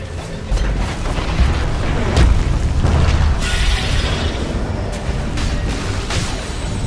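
A tower destroyed in the Dota 2 video game, loud deep booms and crumbling rumble sustained over several seconds amid battle noise.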